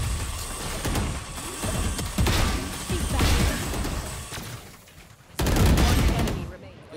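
Rapid bursts of gunfire in the Valorant video game crackle repeatedly, with a loud volley near the end, while a player talks over the action.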